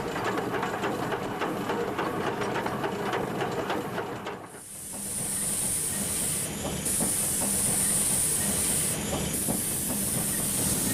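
A Yorkshire steam locomotive fills the air with a broad, loud roar of steam and mechanical noise, then a sharp high hiss of escaping steam that surges in bursts over a lingering low rumble.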